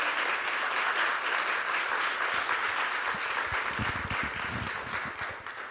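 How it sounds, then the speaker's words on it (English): Audience applause at the Lit & Luz Chicago 2023 keynote address, a dense, sustained roar of many hands clapping in a theater, steady throughout and slowly thinning toward the end. "So let's give one more round of applause to Anna."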